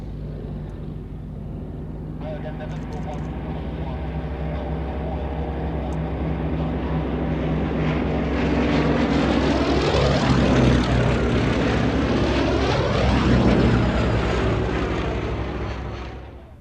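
A camouflaged vintage Westland Lysander propeller aircraft flies at an evening airshow, its engine a loud, steady drone that swells in the middle, with sweeping pitch changes as it passes overhead, then fades slightly at the end.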